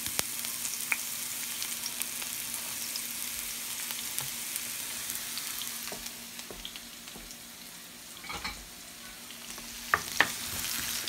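Onion frying in a pan for green beans with egg, a steady soft sizzle running throughout with a few faint clicks of stirring, no talking.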